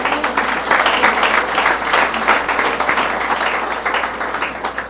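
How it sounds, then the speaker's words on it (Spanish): A church congregation claps together during a sermon, a dense, steady wash of applause lasting several seconds that slowly fades at the end, with no voices over it. "seguro de un aplauso al Señor."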